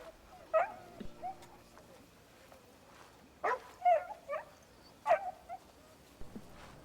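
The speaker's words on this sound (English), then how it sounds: "why does the dog sound like I'm killing it?" Dog in the video game Crimson Desert whimpering and yelping in several short, high bursts with gaps between them, moderately close over a quiet background.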